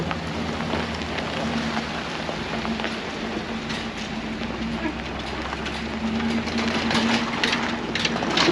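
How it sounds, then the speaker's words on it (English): Steady rain falls outdoors as a dense, even hiss that holds unbroken throughout, with a faint low hum beneath it. "It's still raining."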